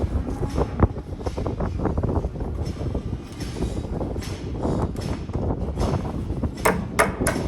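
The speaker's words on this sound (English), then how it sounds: "It's windy." Gusty outdoor wind buffets the microphone on a farm during equipment repairs, a loud continuous rumble with irregular surges and faint clinks throughout, and no voices.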